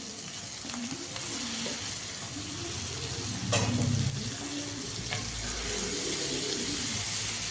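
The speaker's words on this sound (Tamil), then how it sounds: "நல்லா கிளறி விட்டுருக்குங்க." Kolukattai dumplings made from idiyappam flour being stirred in a hot pan, giving a steady soft sizzle with scraping stirs and a few louder clinks partway through, alone without voices.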